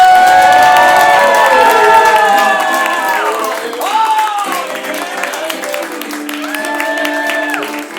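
Live late-show audience clapping and cheering, loud crowd noise with shouts and whoops, while a music sting with sustained tones plays over it and the energy gradually eases.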